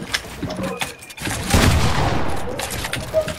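Gunfire in a first-person shooter match, scattered shots early, then a loud dense volley swelling midway before tapering off, with a voice speaking during the exchange.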